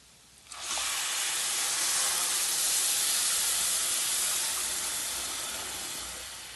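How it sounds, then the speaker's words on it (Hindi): Milk is poured into a pan of roasted nuts while making urad dal kheer, giving a loud, steady sizzling hiss that bursts in after a brief quiet start and slowly fades over several seconds, with no talking. "अब हम इसमें दूध डालेंगे जो हमने 1 किलो लिया था।"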